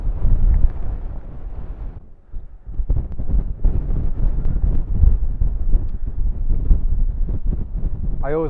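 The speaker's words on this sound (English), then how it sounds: "Windy." Strong wind on a Lake District mountain top buffets the microphone in a steady, roaring rush, gusting continuously with a brief lull midway.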